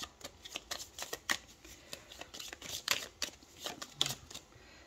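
Tarot cards being shuffled by hand before a reading, with a run of quick papery riffles and slaps in uneven bursts, close and fairly quiet, with no talking.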